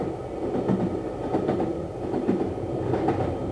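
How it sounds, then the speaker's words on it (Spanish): A train runs steadily along the rails, a continuous low rumble with soft rhythmic clickety-clack from the wheels. It sounds close and carries on without a break, with no talk over it. "Inmediatamente después del comienzo de la guerra, los trenes empezaron a transportar prisioneros al Gulag."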